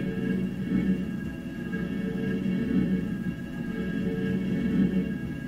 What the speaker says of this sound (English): this is the sound of an ABBA CD skipping, and eventually this crescendos to be very loud.